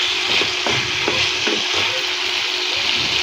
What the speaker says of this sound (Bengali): এই যে একটু মাছটা দিয়ে কষিয়ে নেব